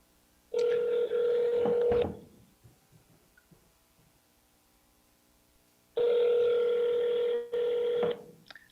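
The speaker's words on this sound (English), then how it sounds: "I hear a phone ring." A telephone rings in two long electronic bursts with a quiet gap between them, each burst trilling steadily and fairly loud, with no talking over the rings.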